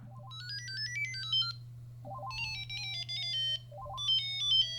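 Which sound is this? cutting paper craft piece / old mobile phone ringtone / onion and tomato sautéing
old mobile phone ringtone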